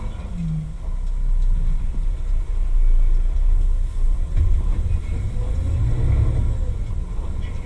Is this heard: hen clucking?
no